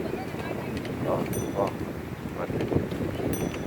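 Strong wind rushes and buffets the microphone on the Konyaalti seaside promenade in Antalya, Turkey, during a storm at sea, roaring steadily as a person speaks briefly over it.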